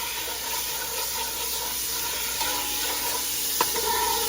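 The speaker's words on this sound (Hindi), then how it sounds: "चूल्हे का काफ़ी शोर है" Garlic sizzles and hisses in hot oil over a loud gas stove, a steady close frying roar with a faint clink near the end and no voices.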